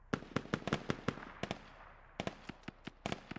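Squad gunfire rings out as single sharp cracks and quick clusters of shots, fairly distant and faint, with a short lull in the middle and nobody talking.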